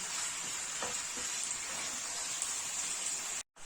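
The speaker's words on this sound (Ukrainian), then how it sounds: "щоб воно швиденько і гарно обсмажується" Steady, close sizzling of meat frying in a hot pan, a continuous crackle with no voices.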